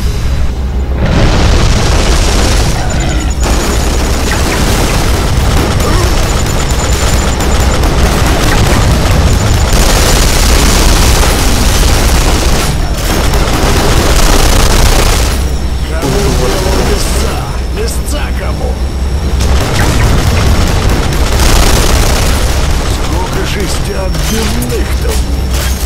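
Loud, continuous sound from the game Duke Nukem Forever, dominated by repeated booming explosions and bursts of gunfire, with a voice speaking over parts of it.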